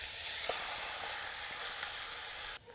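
Lamb browning in olive oil with garlic and rosemary in a camp oven at Cheynes Beach, a steady close sizzle of frying with faint stirring clicks, cutting off abruptly near the end.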